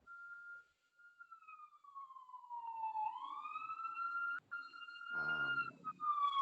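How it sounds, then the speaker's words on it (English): A single clear siren wails, sliding slowly down and then back up in pitch, heard alone and fairly faint in quiet surroundings. "I see what you mean about the sirens going off."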